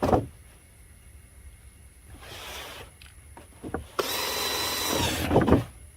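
A drill bores drainage holes through a planter in two short bursts of whirring and grinding, with quiet handling noise and light knocks in between, close up and fairly soft.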